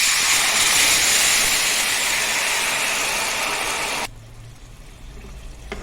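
Loud broadband hiss of tomato juice bubbling and simmering in a pot, cutting abruptly to a quiet low hum near the end.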